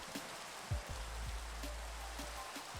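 Steady rain falls in the Minecraft video game, a constant hiss of raindrops over a lake and glass structure, with a few faint low thumps underneath.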